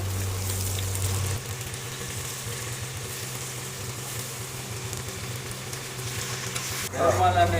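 Finely chopped tomatoes frying in a pan for mutton curry give a loud, close, continuous sizzle with stirring scrapes and a burst of crackling near the end.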